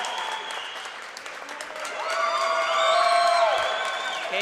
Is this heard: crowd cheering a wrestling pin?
yes